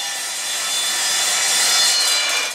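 A metal-cutting chop saw cuts through solid steel in one continuous, harsh, bright grinding rasp that builds slightly and stops abruptly, close and loud.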